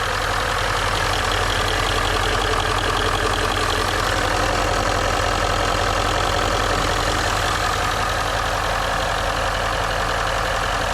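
A Range Rover L405 engine, under investigation for a boost problem, idles just after starting in a steady, loud, close rumble with no pauses.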